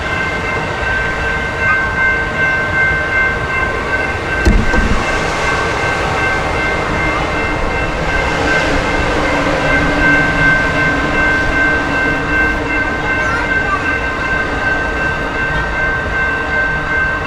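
An Amtrak Auto Train with 16 Superliner cars rumbles steadily along the rails with a continuous low roar and faint metallic squeal, no voices, holding even loudness throughout.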